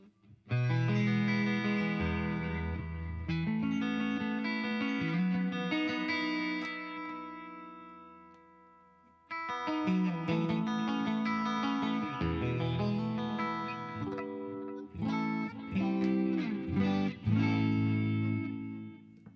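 Clean electric guitar through a Fender Twin Reverb amp model on an Axe-FX II, no overdrive, plays chords and melodic lines with a warm, spacious reverb, pausing briefly midway before continuing.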